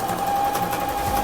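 A sewing machine stitches the front seam of a boy's simple shorts, a loud, steady, close mechanical whir with a continuous tone and no pauses.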